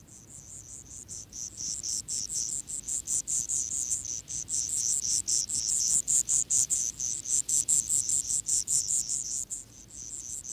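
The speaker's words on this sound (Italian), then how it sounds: "Frinire di cicale." Dense, high-pitched cicada chirring pulses steadily in rapid bursts with brief gaps, loud and continuous throughout, no voices.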